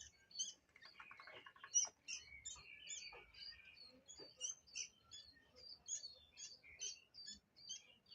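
Baby sooty-headed bulbul (kutilang) chicks chirp faintly while being hand-fed, a busy patter of thin high peeps and squeaky calls in quick irregular bursts.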